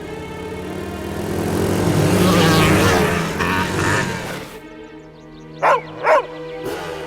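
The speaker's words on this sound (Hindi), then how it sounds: "वो रहा डॉगी।" A dog barks twice in quick succession after a swelling rumble of music and effects from an animated Christmas episode featuring a collie, the yips sharp and close.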